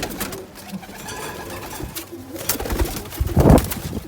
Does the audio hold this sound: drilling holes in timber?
no